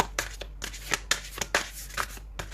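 Tarot cards are shuffled by hand in a steady run of crisp riffling bursts, about a dozen quick flutters close up over a low steady hum.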